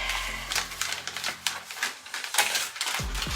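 A sheet torn off a disposable paper artist palette makes a close, crackling rip with rustling and crinkling of paper across a few seconds, alone without talk.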